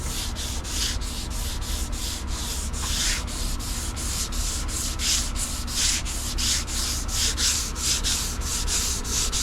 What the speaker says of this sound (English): we're using the Festool sander with 320 grit sandpaper